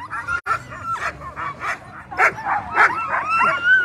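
Sled dogs at a race near Willow, Alaska bark, yip and whimper in an excited, overlapping chorus, loud and close.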